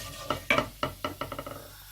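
A quick series of crackling pops and sizzles from cumin seeds hitting hot oil, sharp at first and then tapering into lighter spatters.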